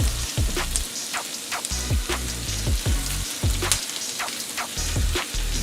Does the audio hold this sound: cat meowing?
no